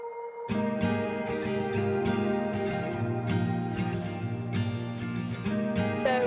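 Music with a steady beat and sustained harmonies starts after a brief quiet lead-in, then plays on at full level with no talking.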